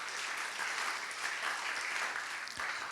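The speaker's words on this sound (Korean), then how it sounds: "박수 크게 부탁드립니다." A church congregation claps loudly during a Sunday service certificate presentation, a thick, continuous wash of many hands applauding that holds steady to the end.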